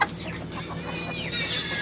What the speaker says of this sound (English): All day long, big rooster.